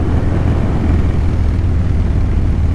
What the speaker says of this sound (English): I'm gonna get off the throttle.